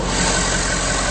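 A 2011 Ford F-250 Super Duty with the 6.7-liter diesel idles steadily under the open hood, a smooth, even low rumble with constant broadband clatter and no voices.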